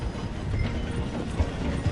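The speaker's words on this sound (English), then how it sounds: "The train is slowing down to go through the station." Train in the Red Dead Redemption 2 video game slowing down through a station, a steady low rolling rumble with faint clattering and two brief low knocks near the end, no voices.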